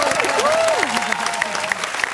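Studio audience applause for a contestant named Rafał on a Polish TV show, a steady broadband clatter of clapping under and between a host's talk.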